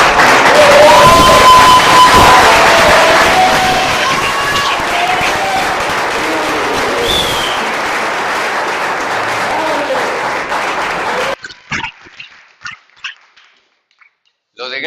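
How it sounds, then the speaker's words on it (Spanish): Loud crowd applause and cheering at a gathering as a guest is welcomed, the clapping fading over about eleven seconds and then cutting off, followed by a few separate bursts of nearby speech. "Recibimos con un aplauso al gran Federato."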